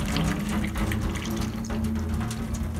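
Tap water runs steadily from a faucet into a sink while blanched broccoli is cooled in it. The splashing stream is close and continuous, with no talking.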